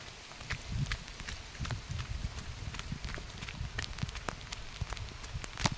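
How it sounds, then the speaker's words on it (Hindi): Heavy monsoon rain falls steadily in Uttarakhand, a dense continuous patter of drops on surfaces with scattered sharper splashes and low rumbling, close and fairly loud with no talking. "बारिश ज़्यादा हो रही है"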